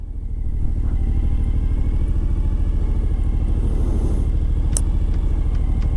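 A motorcycle engine throbs loud and close while riding, a steady low pulsing rumble that builds in the first second and then holds even, with no talking over it.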